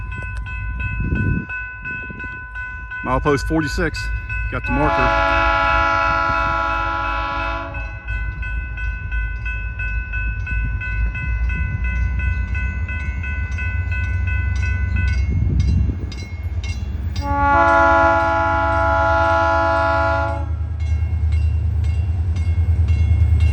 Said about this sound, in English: And there's the train.